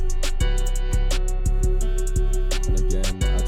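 Trap beat, its melody over heavy, booming 808 bass hits and crisp hi-hats, playing loud and continuous with no voices.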